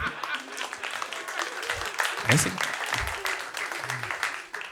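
An audience applauds weakly, the clapping thin and steady beneath a voice speaking over it.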